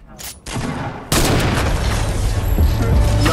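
In a video game, sharp, loud gunfire bursts from a bouncer shot land close, with a heavy boom. A brief shot comes first, then a sustained roaring blast that rumbles on.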